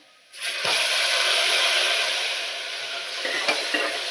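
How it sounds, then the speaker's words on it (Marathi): Tomatoes sizzling in hot oil with fried onion and chili for dal palak, a steady broad hiss starting after a brief quiet moment, with a few soft clinks of a spoon stirring the pan near the end. "आता हे टॉमॅटो शिजवून घेते"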